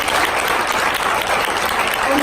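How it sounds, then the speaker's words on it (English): A roomful of conference attendees at an all-women panel gives a steady, full round of applause, dense and even from start to finish. "give them a round of applause for standing up"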